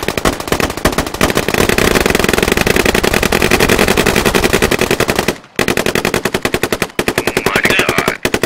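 Machine gun fire in the military shooter game Squad: long, loud, rapid automatic bursts hammering almost without pause, broken by a couple of short gaps, with a faint voice briefly audible near the end.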